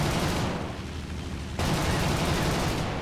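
A short burst of aircraft cannon and machine-gun fire from a Bf 109 F-4 fighter in War Thunder, strafing artillery in the Siege of Malta event, a dense loud rattle over steady engine drone that cuts off and resumes.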